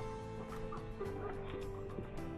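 Hens cluck busily and continuously while being fed, a dense overlapping chatter of short calls close by, over a steady background hum.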